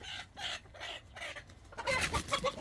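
Three roosters kept apart in a chicken coop cluck and murmur nearby, a run of low throaty calls that grows busier and louder toward the end.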